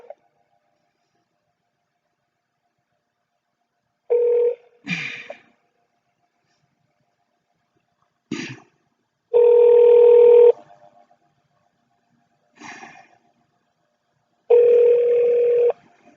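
Telephone line tones on a call: a steady dial or ringback tone sounds in several long bursts, interspersed with short clicks and dialing beeps, clear and alone with no talk.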